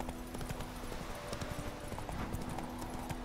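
Horse hooves clip-clop in a steady, continuous rhythm in The Witcher 3, riding over a constant low hum of game ambience, with no talking.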